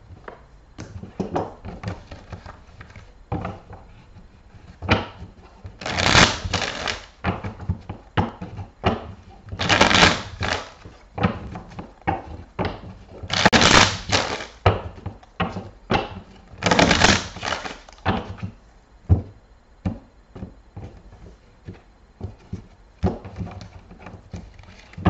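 Tarot cards are shuffled in several loud, rushing riffle bursts about a second long, repeated every few seconds between softer handling clatter and taps, with no speech.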